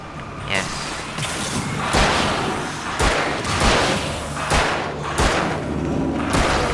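Shotgun blasts ring out in the Alan Wake video game as a loud, repeated series of heavy booms at irregular intervals, about one every second, over a dense layer of game noise.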